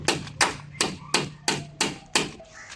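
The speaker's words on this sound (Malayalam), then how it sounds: "ഈ കാണുന്ന പോലെ ആണി അടിച്ച് വെക്കണം" Hammer driving nails into wood on a terrace build, seven sharp, evenly spaced blows about a third of a second apart, close and loud with a brief ring after each strike.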